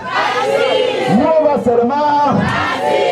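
A crowd cheering and acclaiming at a church ceremony during a diploma presentation, loud, continuous overlapping voices shouting together throughout.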